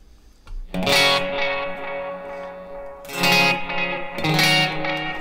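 Electric guitar through a Strymon El Capistan tape delay set to a long quarter-note delay with a fixed tape head: a few loud strummed chords and notes, each trailing into washy, fading repeats that overlap and ring on alone.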